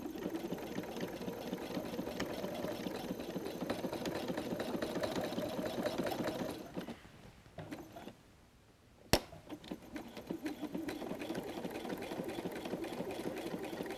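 Sewing machine running a triple zigzag stitch across faux suede, a steady mechanical whirr that pauses briefly midway, then a sharp click before the stitching resumes.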